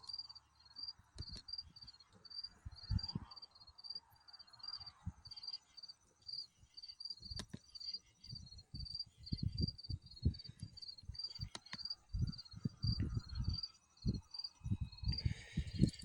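Crickets near a farm chirp in a steady, rapid pulsing trill throughout, joined by intermittent soft nearby thumps and crackles.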